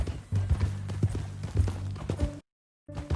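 Horse hooves clip-clop at a walking pace in Red Dead Redemption 2, a run of close, loud, regular hoof strikes that stops abruptly into silence before resuming briefly.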